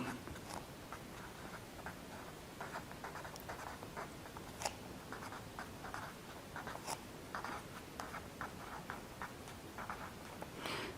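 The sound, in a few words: writing notes during an anatomy lecture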